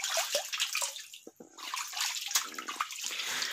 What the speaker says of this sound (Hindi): ये पहाड़ के अंदर से पानी आता है